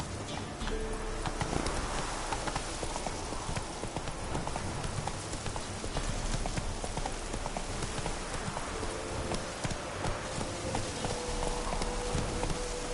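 Steady clip-clop of Roach the horse galloping in The Witcher 3, rapid rhythmic hoofbeats running without a break over a soft, rain-like background hiss.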